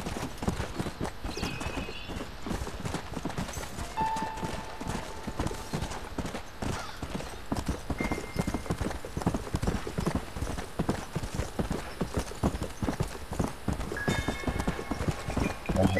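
A horse's hooves clip-clop steadily on the ground in the Western video game Red Dead Redemption, an even rhythmic trot running throughout with faint game tones and brief chimes in the background.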